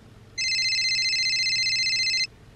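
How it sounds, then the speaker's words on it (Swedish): A telephone ringing on an outgoing call: one sustained electronic ring tone lasting about two seconds, clear and alone over a quiet background. "Jag tog upp telefonen,"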